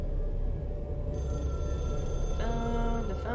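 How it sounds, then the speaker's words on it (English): An old-style telephone rings repeatedly in the video game Control, with steady bell tones over a constant dense background hum from the game. "The phone is ringing."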